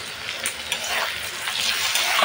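Hilsa fish pieces coated with turmeric and salt are stirred in a hot pan, giving a continuous close sizzle with scraping stir strokes and no voices.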